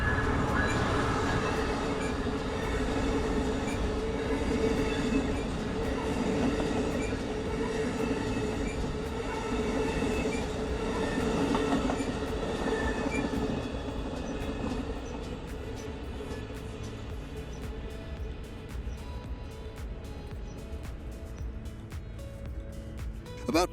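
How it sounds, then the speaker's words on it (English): An Amtrak long-distance passenger train rumbles steadily past with a continuous rolling roar and faint metallic wheel noise, loud and close, easing slightly toward the end. "watching our train trundle past"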